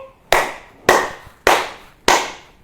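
Four loud, crisp hand claps at a slower, steady pace, each a sharp close crack with a short decay and silence between, no voices.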